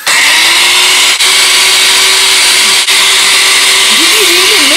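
A blender whirs loudly and steadily at close range, a continuous high motor drone with two brief dips, and a voice begins talking over it near the end.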